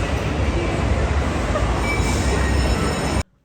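An amusement park train ride runs with a loud, steady rumble and rattle that holds evenly for about three seconds and then cuts off abruptly.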